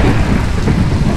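Steady heavy rain and rolling thunder in a video game, a dense continuous roar of rainfall with low rumbles throughout, loud and close, with no talking.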